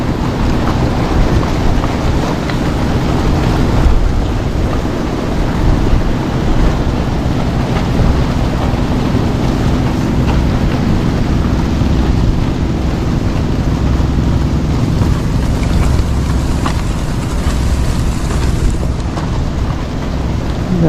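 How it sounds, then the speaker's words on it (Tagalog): Strong, constant wind at sea roars and buffets the microphone during airgun fishing, with a steady rushing of sea and boat noise underneath, no voices. "Grabe po hangin."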